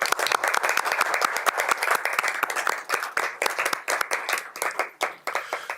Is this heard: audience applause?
yes